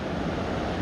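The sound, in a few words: water flowing underneath boulders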